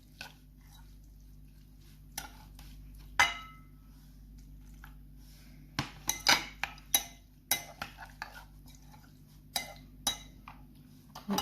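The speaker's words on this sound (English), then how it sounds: "add buttermilk, stir it, add more if needed." A spoon stirring buttermilk into poha in a metal pot, a series of light clinks and scrapes that start sparse and grow quicker and more frequent, close and quiet over a low steady hum.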